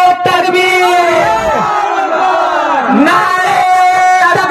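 Large crowd at an Eidgah fundraising gathering roaring a Takbir chant in unison in reply to a slogan call, loud and sustained throughout with rising and falling massed voices.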